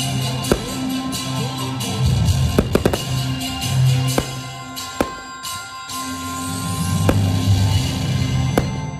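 Fireworks display at a Bancheto 2023 event: scattered sharp pops and cracks ring out at irregular intervals over a steady crowd murmur and background hum, some bursts louder and closer than others.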